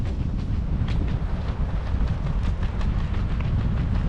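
Strong wind on Boracay island buffets the microphone with a constant, heavy low rumble and roar that never lets up for the whole stretch.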